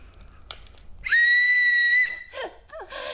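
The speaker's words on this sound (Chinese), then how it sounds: "糖果也很好吃，而且还能吹出好听的音乐。" A whistle candy shaped like an orange guitar gives a short breathy chirp, then a loud, steady shrill tone held about a second, followed by a few quick wavering toots, close up.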